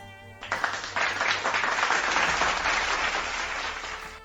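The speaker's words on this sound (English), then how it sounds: "definitely give a round of applause for that" A round of applause, steady dense clapping that starts abruptly after a brief pause and holds at an even level for several seconds, sounding like a crowd rather than a single person.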